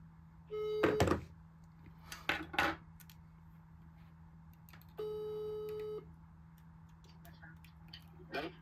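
An incoming call makes a phone ring: two short electronic tones sound a few seconds apart, close by, among scattered clicks and knocks of handling.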